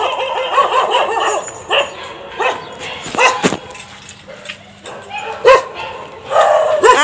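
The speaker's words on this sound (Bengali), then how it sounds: "ও ভয় পাচ্ছে কুকুরদের আওয়াজ শুনে" Several dogs near a street of dog shops bark and yip repeatedly at close range in uneven bursts, with some talk mixed in.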